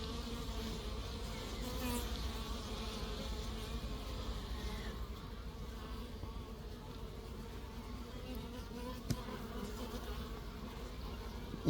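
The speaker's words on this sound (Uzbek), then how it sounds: "Endi bu arimizni qarang" Honey bees buzzing steadily at an opened beehive during a colony inspection, a dense continuous hum close to the microphone, with no talk.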